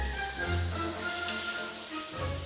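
Frogs sizzle while deep-frying in hot oil, a steady crackling hiss with a low rumble, continuous and fairly close.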